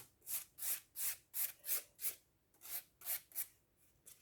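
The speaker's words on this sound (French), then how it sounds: "il y a une irrégularité, donc on lime pour enlever" About eleven quiet, rhythmic rasping strokes of a nail file smoothing irregularities on an acrygel nail, evenly paced with brief gaps between strokes, heard up close and alone.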